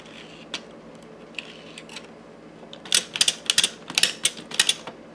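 A 3D-printed knitting machine carriage is pushed forward across the needles with tensioned yarn, giving a faint, sparse opening of small clicks, then a dense run of sharp mechanical clacks and rattles in quick bursts.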